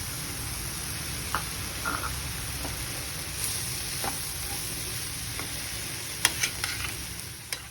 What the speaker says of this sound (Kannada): ಇವಾಗ ಆಲೂಗಡ್ಡೆ ಹಾಕ್ಕೊಂಡು ಚೆನ್ನಾಗಿ ಮಿಕ್ಸ್ ಮಾಡ್ಕೊಳ್ಳೋಣ.